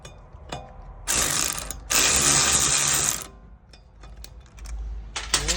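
Ratchet clicking as rear brake rotor bolts are tightened on a 2015 Audi S8, with two close, loud bursts of rapid pawl clicks around a second each, separated by short pauses and followed by quieter handling noises.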